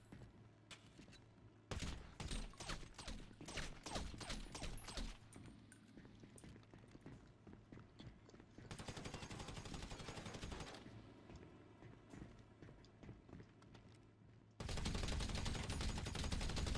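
GTA 5 gunfire in a roleplay session: loud bursts of rapid automatic fire and volleys of shots that come in long stretches, with brief quieter gaps between them.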